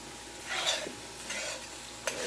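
Sizzling fajitas tossed in a hot pan: loud bursts of frying hiss swell as the food is stirred and flipped, with a light clink of utensil on metal near the end.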